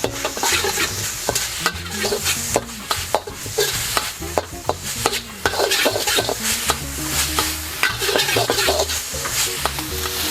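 Pickled mustard greens stir-fry in a hot pan for dan dan noodles, a constant sizzle broken by rapid, rhythmic scrapes and clacks of a utensil against the metal, close and busy.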